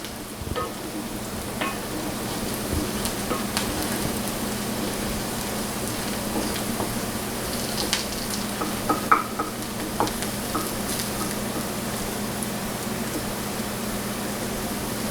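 Turkey pieces sizzle steadily in a hot pan on the stove while a spoon stirs them, giving a continuous close frying hiss with occasional soft scrapes and clicks, no talking.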